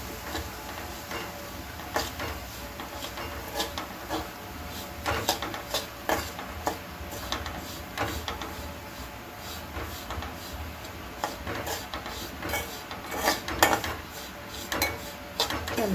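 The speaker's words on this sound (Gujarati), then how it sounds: "આપણે ધીરે ધીરે આવે એને હલાવવાનું છે બધું મિક્સ કરવાનું છે રવા અને ઘીને" Semolina and ghee stirred over low heat in a pan for sweet rava sheera, a steady scraping of spoon against metal with frequent light clinks and taps, moderately close and continuous, no talking.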